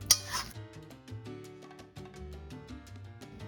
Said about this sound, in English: all I'm going to do is mash it.